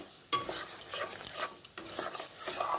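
Mango sandesh is stirred nonstop in a pan, giving a steady, close scraping rustle with a few sharper knocks along the way and no talking.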